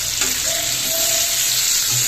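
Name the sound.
spices sizzling in hot oil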